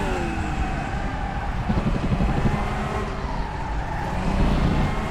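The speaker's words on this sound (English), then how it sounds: "I can hear his car behind me now." A GT4 or TCR race car engine from the RaceRoom racing game at Spa, droning and revving steadily throughout with rising and falling pitch as cars run close together.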